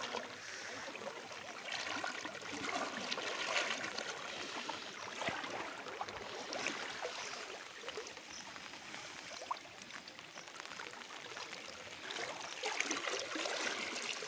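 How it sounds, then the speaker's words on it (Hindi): The Mand river running full near Khadgaon village, a steady broad rush of flowing water heard outdoors without pause. "हमारे ग्राम खड़गांव का मांड नदी रिवर बहुत भरा हुआ है पानी।"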